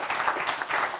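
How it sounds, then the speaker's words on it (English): Audience applause for a panel of speakers at a forum event, a steady dense wash of clapping that holds at an even level throughout with no voices. "How about a big round of applause for our panelists?"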